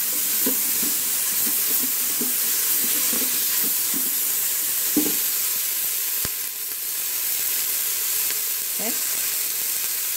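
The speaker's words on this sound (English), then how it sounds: "So first I'm going to add in the cauliflower and the broccoli slaw." Cauliflower and broccoli slaw sautéing in an Instant Pot, a soft sizzle with scattered stirring scrapes and clinks over a low background hum, no speech.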